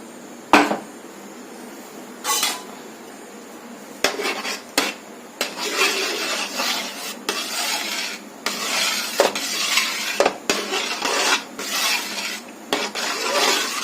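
Beaten rice being stirred into coconut milk in a pan for a coconut halwa, with repeated close scraping and clinking of a spoon against metal in irregular bursts, no talking.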